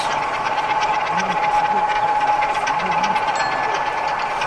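A model railway locomotive pulls away on an exhibition layout at a railway modelling show in an arena, with a steady mechanical whine and faint rail clicking under a continuous crowd hubbub and nearby voices.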